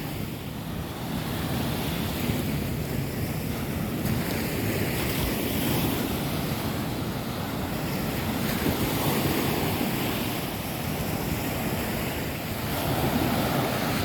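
Sea waves roll onto the beach at Ujung Genteng, Sukabumi, West Java, in the morning, a steady close surf roar with wind noise, continuous and unbroken, with no talking.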